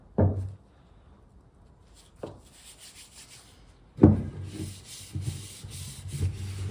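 A cloth wipes black walnut stain onto a vintage Swedish wooden axe handle: several soft, close rubbing strokes spaced apart, with quiet gaps between them.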